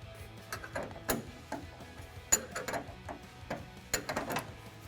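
Wrench work tightening a nylock nut on a Bilstein B8 5100 adjustable leveling shock for a 2016-2020 Toyota Tacoma, heard as irregular close metallic clicks and ratcheting ticks with brief sharp taps, no talking.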